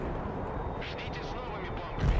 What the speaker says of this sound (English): Coming in with the incendiary cluster.